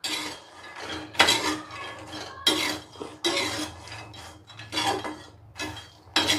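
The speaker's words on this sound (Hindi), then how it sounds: "अब मैं इसमें थोड़ा सा नमक डालूंगी और थोड़ा सा मिर्चा और इन सबको मिक्स कर दूंगी" Fried makhana being tossed with salt and chili in a pan, a series of scraping, rattling stirs in irregular bursts, close and fairly loud.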